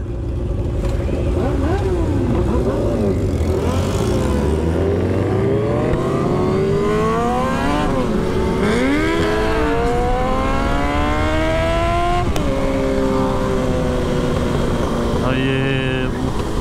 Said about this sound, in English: Busa was spinning its tires!